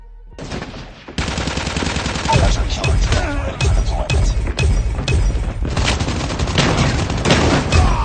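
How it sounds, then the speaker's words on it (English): Raygun firing in Call of Duty Mobile, loud and rapid, with repeated sharp zapping shots in steady bursts that fill several seconds of close gameplay. "Now I actually do have some Raygun gameplay from the stealth bubble guy, and I will go ahead and play that"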